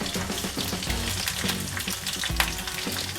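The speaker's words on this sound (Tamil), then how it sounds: "ஒரு கொத்து கருவேப்பிலை, முந்திரி பருப்பு, இதெல்லாம் சேர்த்து ஒரு 2 நிமிஷம் நம்ம தாளிச்சிக்கலாம்" Ginger, green chillies, cumin, asafoetida, pepper, curry leaves and cashews crackle and sizzle in hot oil and ghee for Tamil Nadu-style pongal, a loud, close, continuous frying hiss with bursts of spluttering.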